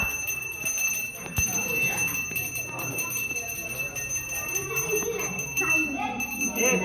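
A small bell rings continuously during a Ganesh Chaturthi procession carrying the idol home in Konkan, its bright steady tone sounding under voices and crowd noise throughout.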